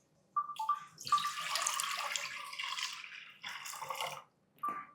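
Water pours from a tap into a pot of washed chana dal, a close, splashy stream in one long run that breaks off briefly and then returns for a short final splash.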